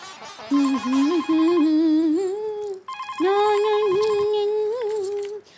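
A telephone rings loudly with a warbling electronic tone in two long bursts separated by a short pause.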